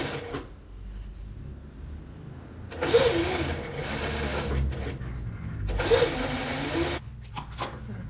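Sewing machine stitching slowly around the edge of a blanket, with two clear close bursts of rapid mechanical whirring separated by quieter pauses of handling.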